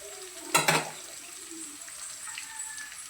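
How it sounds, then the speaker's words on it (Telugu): Onion pieces frying in oil for a village-style chicken curry, a soft steady sizzle with one brief louder burst of stirring near the start, then a low continuous crackle. "ఉల్లిపాయ ముక్కలు కొద్దిగా మాడే వరకు వేయించుకోవాలి"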